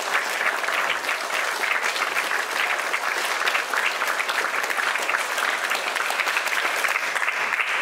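A lecture audience applauds loudly and continuously, a dense, even roar of many hands clapping that fills the whole stretch without pause.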